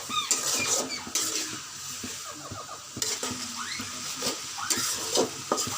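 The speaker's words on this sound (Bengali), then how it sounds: "পেঁয়াজটা কিছুক্ষণ নাড়িয়ে নিচ্ছি, এইভাবে একটু গলে গেছে।" Onions for a chicken biryani sizzle in a hot pan while being stirred, with repeated scraping strokes of a utensil against the pan over a constant frying hiss.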